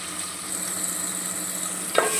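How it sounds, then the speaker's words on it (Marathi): Tomatoes saute for vegetable pulao in a pan, giving a steady close-up sizzle with a soft scrape of stirring near the end. "टमॅटो पण आपण चांगला परतून घेऊया।"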